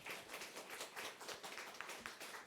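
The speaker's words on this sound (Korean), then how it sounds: "우리 환영의 박수를 하겠습니다." A group of people clapping together, a steady patter of applause held at a moderate, even level for a couple of seconds.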